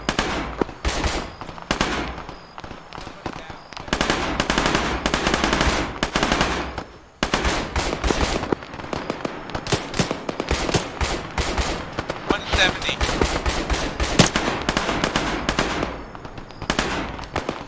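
Sustained gunfire in a video game firefight, with rapid machine-gun bursts and single shots crackling almost continuously and loudly, briefly dipping near the middle, with faint voices now and then under the shooting.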